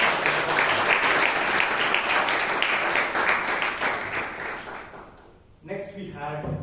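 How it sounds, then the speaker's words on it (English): Audience applause fills a Toastmasters meeting room: dense, sustained clapping from a crowd that fades toward the end, followed by a voice beginning to talk. "Can we give a loud round of applause to"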